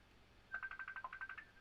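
A quick run of about a dozen telephone dialing tones beeps in an even rhythm, faint and clean, with nothing else heard underneath.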